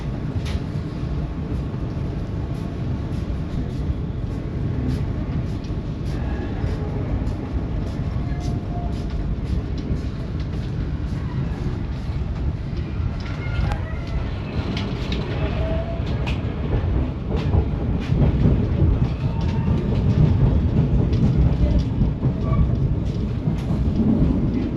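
The Gunungjati passenger train, heard from on board, rolls steadily along, a continuous low rumble with faint clacking from the rails, slowly growing a little louder, with no talking.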